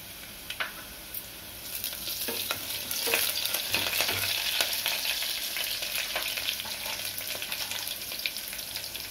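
Chicken fries in a pan with a continuous loud, crackling sizzle, joined by a few scraping stirs and knocks early on, steady and close throughout.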